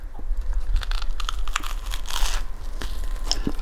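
Crunchy bites into a buttered carnivore English muffin, with several crisp crackling chews close to the mic, one after another, and no talk.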